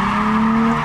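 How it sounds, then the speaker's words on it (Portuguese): A car drifting through a full rotation during a drift practice session, its tires giving a loud, sustained, steady squeal up close for under a second with engine noise beneath. "Faz o rotatório inteiro agora no drift."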